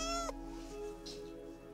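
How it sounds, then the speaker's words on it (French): A single short cat meow, fairly close, followed by quiet room sound. "on a un petit chat"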